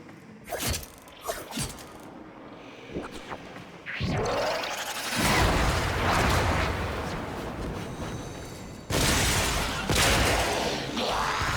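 Limbo's blast and electricity coil attacks in the Warframe video game: sharp crackling bursts and scattered impacts at first, then sustained loud crackling electrical blasts with another heavy surge near the end.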